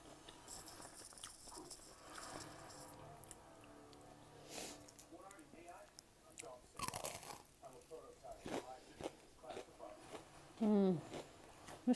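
Eating tempura shrimp gives a run of crisp, close bites and crunches, with sniffing between them. The chewing comes in irregular bursts and sits under quiet speech.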